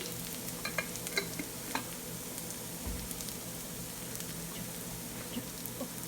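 Onions sizzle softly in a pan as spice powders such as turmeric are added for a green peas egg curry, with a steady fry hiss and occasional light stirring taps.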